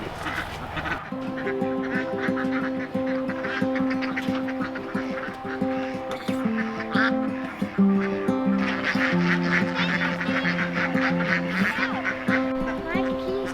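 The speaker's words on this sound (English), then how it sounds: "Micah, do you want to help me let the ducks out so they can play on the pond?" Ducks let out of their pen toward a pond honk and quack in a busy chorus, loud and close for the whole stretch, with a voice briefly under the calls near the start.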